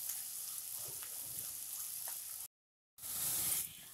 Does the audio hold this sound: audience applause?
no